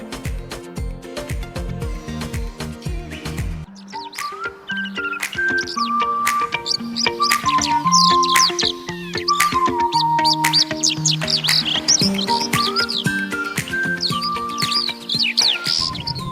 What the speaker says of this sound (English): You can hear the clear and melodious chirping of birds.